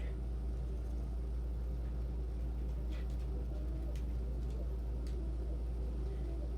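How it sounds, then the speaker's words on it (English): Pigeons coo softly and intermittently in a room over a constant low rumbling hum, with a few faint higher chirps and no one talking. "Pigeons are so affectionate."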